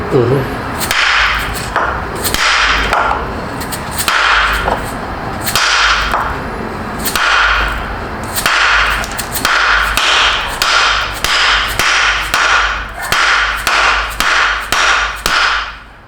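A 16-ounce hammer strikes wood blocks repeatedly while installing suspension on a BMW G80 M3, sharp loud knocks at first spaced apart, then coming faster in a steady rhythm toward the end.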